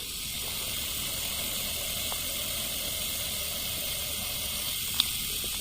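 Steady hiss of refrigerant or oil vapor escaping from a leak at the evaporator of a Panasonic inverter refrigerator, continuous and even throughout, with a faint click near the end.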